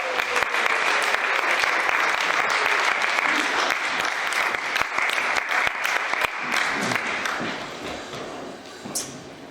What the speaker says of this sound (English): So please give a warm round of applause and let's welcome Darpan to the stage.